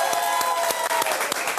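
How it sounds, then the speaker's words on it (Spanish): A studio audience applauds a guest on a Venezuelan talk show, a short burst of many hands clapping, fairly close and brisk. "Un aplauso para Potro Álvarez."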